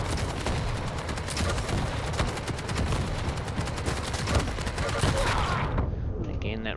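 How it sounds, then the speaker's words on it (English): Rapid, dense weapon fire and blasts from Quake Champions, including rocket launcher shots, pound nonstop in a loud, chaotic barrage that cuts off abruptly near the end. "Again, that rocket launcher just got him down."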